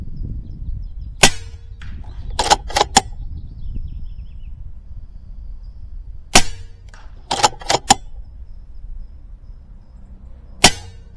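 A Skout EVO .25 caliber air rifle fires slugs at 100 yards outdoors: sharp cracks, some in quick doubles and triples, each followed by a faint distant ring, over steady wind noise and no speech.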